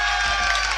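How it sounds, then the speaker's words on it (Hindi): Audience applause at a kavi sammelan poetry gathering in Khedawad village: a steady, dense wash of clapping from a crowd, sustained and fairly loud throughout the short moment. "एक बार जोरदार तालियां युवाओं के साथ में,"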